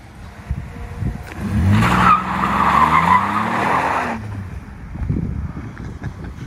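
A 2018 Chevy Colorado ZR2 truck fitted with a K&N cold air intake drives past nearby, its engine and tires swelling to a loud rush mid-clip, then fading into outdoor background noise.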